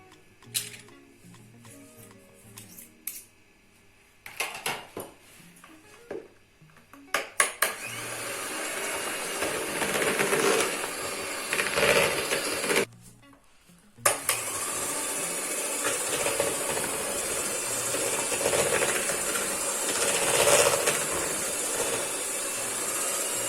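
Eggs and cheese being beaten together with an electric mixer, a steady whirring motor that starts and stops in short bursts before running continuously, loud and close.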